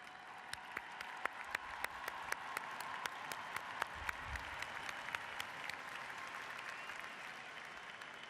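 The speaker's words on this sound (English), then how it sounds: "Please take a bow and a round of applause." Sustained audience applause at the WorldSkills Kazan closing ceremony, a large crowd clapping steadily throughout with sharper individual claps standing out, fairly distant and evenly loud.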